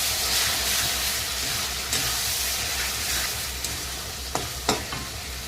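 Paste of dried and green chillies, with cumin, frying and being stirred in a pan, giving a steady, bright sizzle with a few sharp utensil taps toward the end and no talking.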